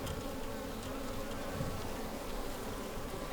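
A dense, steady swarm buzz of honeybees around an open hive during a beekeeping inspection, continuous and even in loudness and filling the whole stretch, with no talking.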